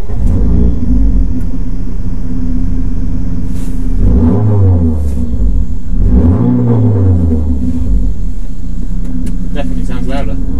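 Renault Clio 197 R27 engine running while driving, a steady low rumble under continuous talk, with two rising-and-falling revs as the car accelerates, loud and close from inside the cabin.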